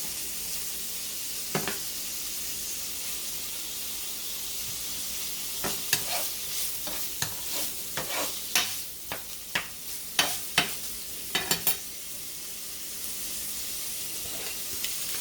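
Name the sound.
sausage and cabbage frying in a skillet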